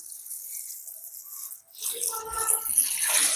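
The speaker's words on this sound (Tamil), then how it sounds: "நான் இதுக்குள்ள வந்து தண்ணி விட போகிறேன் அளவா தண்ணி விட போகிறேன்" Water pours steadily into a cooking pot for a Point Pedro-style odiyal fish kool. The pour begins halfway through after a quiet start and continues as a close, rushing splash.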